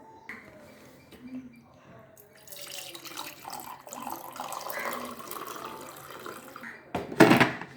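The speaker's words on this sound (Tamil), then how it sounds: "நமக்கு ஏற்ற கணக்குக்கு சுடு தண்ணியை ஊற்றிட்டு மிக்ஸ் பண்ணுங்கள்" Quiet kitchen sounds build into a short stream of hot water poured into a cup, with a brief louder splash near the end.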